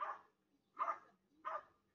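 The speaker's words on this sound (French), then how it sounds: "c'est les voisins avec leurs chiens" Neighbours' dogs bark three times at a steady pace, quiet and somewhat distant, with silence between the barks.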